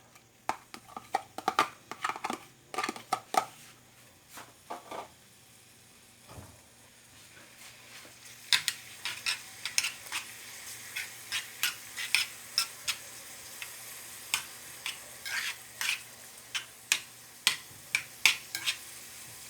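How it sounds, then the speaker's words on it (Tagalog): Chopped garlic and squid sizzle in a hot pan, a steady frying hiss broken by clinks and scraping stirs, sparse at first and then coming as a busy run of sharp taps, close and alone. "lalagay lang natin yung garlic. Chopped garlic and then yung ating squid."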